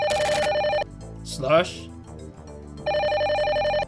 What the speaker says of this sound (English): Alright, well, let's pick up the phone, I guess.